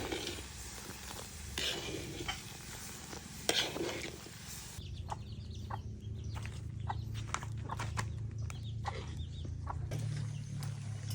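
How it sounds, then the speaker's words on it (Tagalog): Grated coconut stirred in a pan while making coconut oil: a continuous close scraping and sizzling stir, louder and brighter in the first few seconds, then a lower steady churn with intermittent clicks of the utensil, no voices. "paghalu-haluin lang natin"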